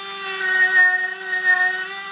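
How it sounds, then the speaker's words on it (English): A Dremel Model 800 rotary tool spins a wire brush against a grade 5 bolt, giving a steady high-pitched motor whine with a bright, even tone that wavers slightly as the brush bites, close and alone. "at least for a little wire brush on this grade 5 bolt. Now for the Dremel."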